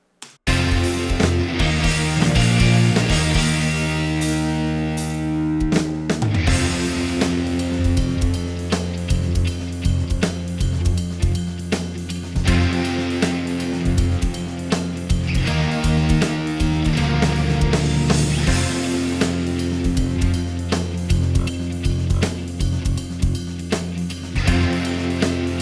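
Distorted electric guitars play alongside bass, drums and clean guitars in a full rock band mix, loud and continuous with steady drum hits throughout, a keyboard chord blending into the background.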